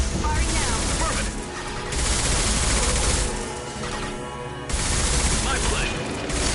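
Gunfire in the video game Mass Effect Legendary Edition: dense, continuous roaring bursts of shots and blasts that swell and ebb in loud waves throughout.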